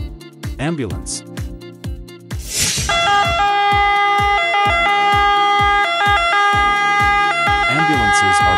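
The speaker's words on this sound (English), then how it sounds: "Ambulance." An ambulance siren sounds loud and close in repeating electronic tones that shift into a rapid alternating pattern and hold steady, with a voice heard briefly at the start.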